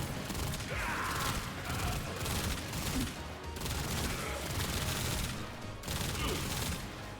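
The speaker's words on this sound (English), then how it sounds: "if you don't empty the entire magazine, you can keep firing a lot more" A Basmu weapon in Warframe fires in long, sustained streams of rapid, crackling shots, pausing briefly before resuming, fairly quiet and continuous throughout.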